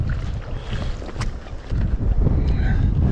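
Wind buffets the microphone outdoors on the water while trout fishing from a boat, a steady low rumble that swells louder in the second half, with no talking.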